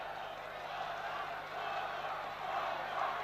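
A stadium crowd applauds the referee during a 1978 UEFA Cup football match between Bastia and Torino, heard as a steady, fairly distant wash of clapping and crowd noise throughout.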